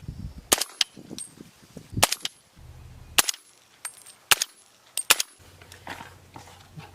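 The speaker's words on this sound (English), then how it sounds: "The Winchester made less noise than the AAC rounds." A PSA Jakl rifle fires Winchester rounds outdoors: about seven loud, sharp single shots in an irregular rhythm, each a crisp crack with a short tail, separated by brief quiet gaps.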